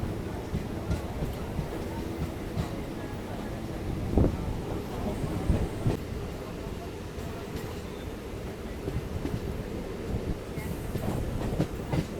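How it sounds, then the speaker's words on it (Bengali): A local passenger train on the Barddhaman to Katwa line pulls out of Chamardighi station, with a steady rumbling roll, faint wheel clicks on the rails and wind buffeting the microphone throughout. "তো আমাদের ট্রেনটা ছেড়ে দিল হচ্ছে চামারদিঘি রেলওয়ে স্টেশন থেকে"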